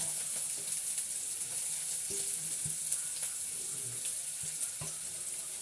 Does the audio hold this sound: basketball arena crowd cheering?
no